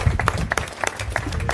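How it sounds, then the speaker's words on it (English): A few people clap at a San Francisco Central Subway transportation press conference, giving sparse, uneven individual claps in a brief burst with some low background murmur. "You can clap at that one."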